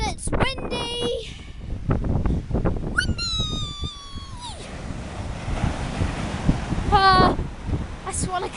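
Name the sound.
wind and waves at the beach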